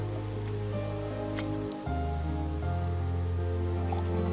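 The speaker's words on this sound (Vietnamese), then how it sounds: "Trận mưa này đúng là đã nhỏ lại rồi, nhưng mà vẫn chưa tạnh." Steady rain patters continuously over a low droning hum in an evening scene from a TVB drama. The wash stays even and moderately loud throughout, with no one talking.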